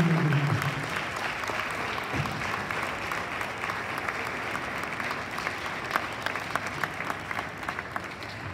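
A church congregation gives a standing ovation to welcome a brother at a gospel meeting led by a prophet, sustained steady applause filling the hall at moderate distance, with a brief low voice near the start.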